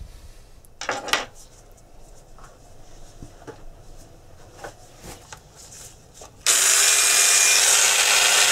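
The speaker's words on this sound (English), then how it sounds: "I might touch them up with the polishing wheels a little bit." A workshop polishing wheel, used on the steel pallets of an early Scottish tall case clock, gives a few light metallic clinks before it starts up with a loud, steady, close whirring hiss that continues to the end.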